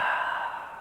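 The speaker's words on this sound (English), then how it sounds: "For release, exhale." A single close, airy exhale at the end of a yoga twist session, heard alone as a soft sustained sigh.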